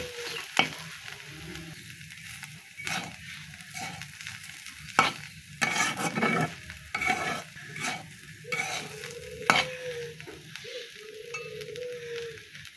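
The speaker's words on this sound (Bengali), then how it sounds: "আমার মাছের ডিম ভাজিটা হয়ে গেছে, আর সামান্য নেড়ে চেড়ে আমি নামিয়ে নেব" A fish roe fry with potato is stirred in a frying pan: intermittent scraping and clinking strokes over a soft, continuous sizzle, close and fairly quiet, with no voices.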